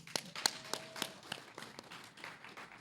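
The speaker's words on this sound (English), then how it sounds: "Let's get a round of applause for K9." At a Classic Tetris World Championship tournament in Kansas City, a sparse scattering of claps greets a donor to the prize pool. The handclaps are distinct and somewhat distant, irregular and thinning out across the few seconds.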